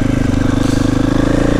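A motorcycle engine running steadily close up, a loud, even, pulsing thrum with no talk.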